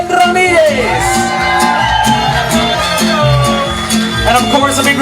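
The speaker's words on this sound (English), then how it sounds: "how about a round of applause for the pioneering dance company, Ballet Folklórico, Flor de Mayo" An outdoor Cinco de Mayo crowd cheers, shouts and whoops for the folk dance company Ballet Folklórico Flor de Mayo, a continuous loud roar with whistles and yells throughout.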